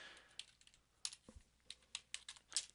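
Sparse, irregular taps of computer keys, a few quick clicks spaced apart, fairly quiet and close with no voices.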